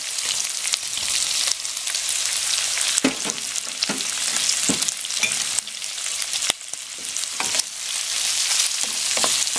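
Shrimp sautéing with onion in a frying pan, a steady loud sizzle with stirring scrapes and occasional crackles throughout, no talking.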